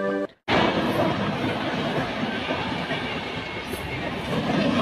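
The Kanchanjunga Express pulls into Dalkhola station with a loud, continuous rumble of rolling railway cars and wheel noise after a brief break near the start.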